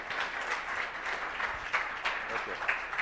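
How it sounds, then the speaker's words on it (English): Audience at an engineering talk applauding a speaker, a steady round of clapping from a room full of people lasting throughout, with voices mixed in. "let's give Sean another round of applause for a great job"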